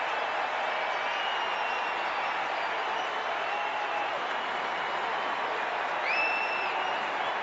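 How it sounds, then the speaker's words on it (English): A large cricket crowd at Lord's, largely Indian supporters, roars and applauds steadily for Shami's half-century, a dense continuous wash of clapping and cheering with occasional whistles rising above it, with no talk on top. "the sound from the crowd here is very pro-India"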